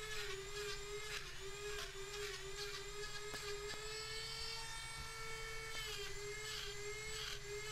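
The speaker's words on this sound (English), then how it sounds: "Dremel grinder, and I just kind of plunged it all around the entire outside perimeter, creating grooves all the way around that snowman" A Dremel rotary grinder plunges around the outside edge of a birch wood snowman, cutting rough grooves; a steady, close high-pitched whine holds through the whole stretch with slight pitch dips as the bit bites into the wood.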